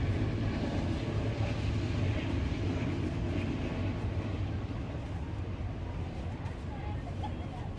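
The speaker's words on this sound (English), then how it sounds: "Wait, train." A train rumbles past a campsite in a steady low roar, with a voice talking excitedly over it.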